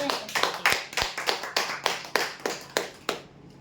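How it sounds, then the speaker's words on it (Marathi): A crowd applauds at a weekly prize draw with a run of crisp, evenly spaced claps, close and fairly loud, stopping abruptly after a few seconds. "जोरदार टाळ्या"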